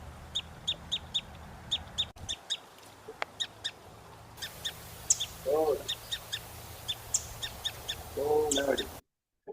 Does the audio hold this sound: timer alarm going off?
no